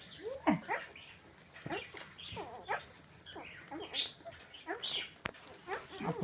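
A litter of Bouvier puppies whimper and squeak while being fed, with frequent high, thin cries near and fairly faint, mixed with a person talking throughout.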